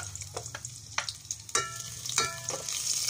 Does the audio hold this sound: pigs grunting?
no